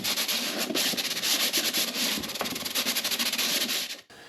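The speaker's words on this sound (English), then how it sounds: "First thing I want to do is just make sure everything is smooth on the inside and sand it down." Sandpaper rubs steadily over the inside of acoustic guitar sides held in a work mold, near the braces and kerfing: a continuous, close, raspy scrubbing that stops abruptly at the end.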